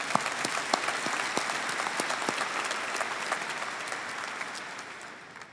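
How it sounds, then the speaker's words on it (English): Steady applause from a high school graduation crowd, dense overlapping claps with a few sharp nearby ones, continuous for several seconds and tapering slightly at the end. "Let's give Willie one more round of applause"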